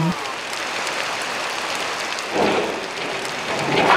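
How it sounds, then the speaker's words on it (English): Steady rain from a children's alphabet learning app, a continuous close hiss of falling drops with two brief louder swells. "Rain."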